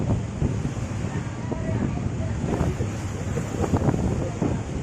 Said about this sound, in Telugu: చాలా ఫోర్స్గా అయితే వచ్చి మొత్తం వాటర్ వేవ్స్ అని పిల్లర్స్ మాత్రం తాకుతున్నాయి